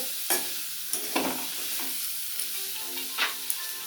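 A dry banana flower mixture for chops is stirred and fried in a pan with no water added, giving sparse scraping strokes and short sizzling bursts, moderately close and without talk.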